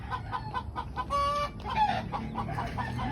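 A hen clucks repeatedly in short, choppy bursts, with one longer drawn-out call in the middle, close and fairly clear over a low background hum.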